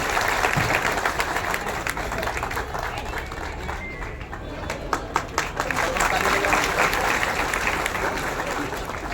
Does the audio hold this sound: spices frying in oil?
no